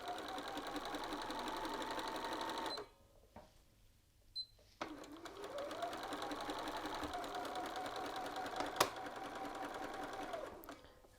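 A sewing machine back-tacks along the button band of a shirt, running a fast, even whir that stops briefly, then starts again, rising in speed and stitching steadily to the end with a sharp click partway through.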